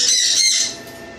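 A pet bird gives a loud, harsh squawk for about half a second, then falls quiet, indoors while wild birds bathe in a backyard swimming pool outside.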